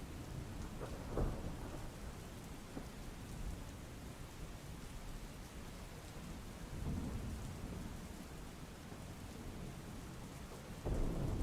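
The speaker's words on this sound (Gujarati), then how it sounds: "સવારથી ભારે વરસાદ વરસી રહ્યો છે" Heavy rain pours down steadily in Surat district, Gujarat, in a dense, continuous roar, with a few low rumbles of thunder rolling underneath.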